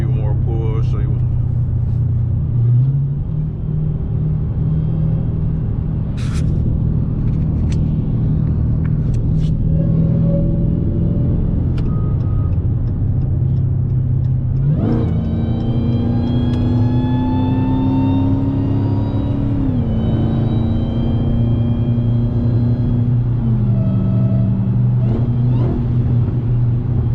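Loud, continuous engine rumble from an 850-horsepower Dodge Hellcat, with repeated surges of acceleration as the pitch rises, dips at gear changes and climbs again.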